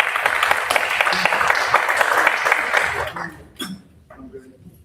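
Clapping from people at a school board meeting, moderately loud and steady for about three seconds before fading out, with voices and chuckles mixed in and a person talking afterward.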